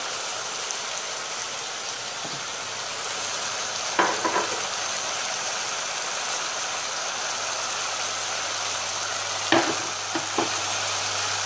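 A pan sizzles steadily as drunken spaghetti with mushrooms is stir-fried, a constant hiss broken by a few clinks of the spatula against the pan.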